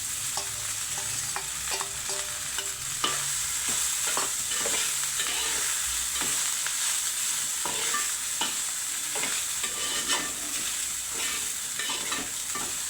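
A millet idli mixture fries and gets stirred in a pan, making continuous loud sizzling with frequent scraping and clinking of the spoon against the metal.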